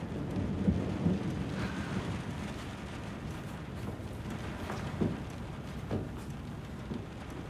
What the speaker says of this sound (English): Please, it's raining hard.